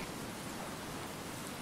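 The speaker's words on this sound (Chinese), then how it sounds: "这个集装箱怎么漏雨呢？" Steady rain pouring into a shipping container in a survival video game, a constant even hiss of drops on metal with no talk.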